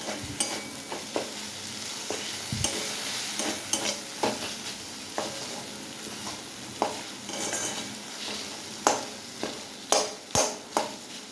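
Spices frying in a pan, ginger, cumin, coriander, bay leaf and tomato, give a low steady sizzle, while a spoon stirs and scrapes against the metal in sharp repeated clanks that come more often toward the end. Heard close, with no voices.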